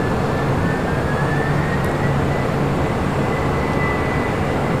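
An ABX Boeing 767 freighter rolls down runway 25 Left at LAX for takeoff, its jet engines making a loud, unbroken roar that stays constant throughout, with no speech.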